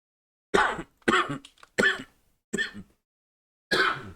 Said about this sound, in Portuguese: A tosse tá muito ruim mesmo.